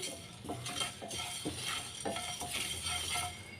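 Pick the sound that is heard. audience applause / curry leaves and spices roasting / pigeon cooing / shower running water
curry leaves and spices roasting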